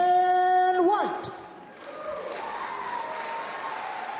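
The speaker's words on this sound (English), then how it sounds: "please give a round of applause for the UAF Chancellor" At the 2023 Festival of Native Arts, an audience greets UAF Chancellor Dan White with moderate clapping and a few cheers. A voice is heard briefly at the start before the steady applause continues.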